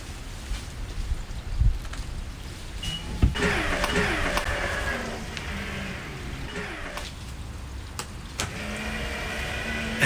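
A Tesla Model 3 power tailgate motor runs as the lid opens, a steady whirring hum with a soft click at the start and a couple of sharper knocks, close and otherwise quiet.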